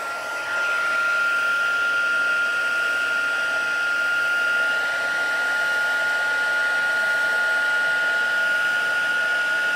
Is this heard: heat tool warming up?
yes